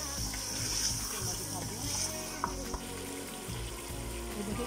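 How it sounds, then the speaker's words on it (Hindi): Mutton for korma fries with yogurt in a pot, giving a steady, close sizzle and bubbling hiss throughout, with a few faint scrapes of stirring. "तो मैं अच्छी तरह से भूनती हूँ।"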